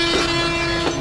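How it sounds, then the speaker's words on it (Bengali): Train pulling away from a station, a steady loud rumble of railway cars with a sustained horn-like tone over it, no talk. "কিন্তু আপনার ট্রেন তো বেরিয়ে গেল।"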